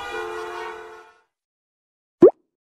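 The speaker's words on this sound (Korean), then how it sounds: "도로에 차가 너무 많아 꽉 막혔어." Car horns in a road traffic jam during the Chuseok holiday: a held, tonal honk for about a second, a pause, then one short sharp blast, both loud and close.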